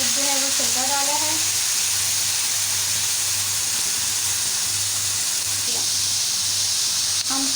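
Chicken and vegetables frying in a pan: a constant loud sizzling hiss fills the clip, with a low steady hum beneath and a short stretch of voice near the start.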